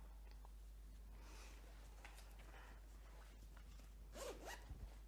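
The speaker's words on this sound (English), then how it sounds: "I hate it when I get my yarn caught in the zipper of my bag" A bag zipper snagged on yarn is tugged in short, scratchy pulls, close and quiet, over a steady low hum, ending in a couple of quicker jerks.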